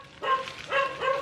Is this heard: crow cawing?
no